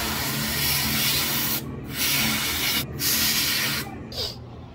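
Canned compressed air blasts dust off a PC CPU cooler in three long, loud hissing bursts with brief gaps between them, close up and without talk.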